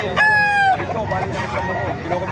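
A white Kelso rooster gives one loud, close crow at a chicken market in Calumpit, Bulacan, followed by fainter crows and a steady murmur of voices from the crowd.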